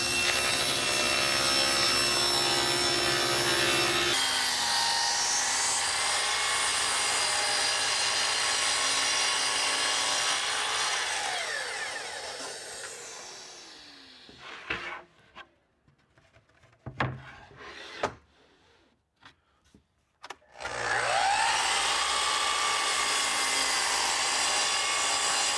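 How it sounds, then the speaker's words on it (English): A power saw cuts a drawer bottom from 1/2 inch plywood, a long loud whining cut that winds down, then brief knocks and handling sounds before the saw starts up again. "So now I'm going to cut a bottom out of 1/2 inch plywood at those dimensions."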